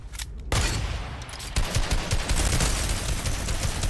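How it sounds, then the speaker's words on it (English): A minigun in Fortnite Battle Royale opens up after a short quiet start, pouring out a loud, continuous rapid-fire stream with a second surge partway through, close and unbroken to the end. "Minigun is OP."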